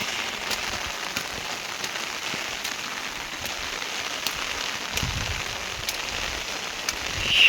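Monsoon rain falling on a cotton farm rooftop, a soft, steady patter with occasional sharper drops, fairly quiet and continuous without talk.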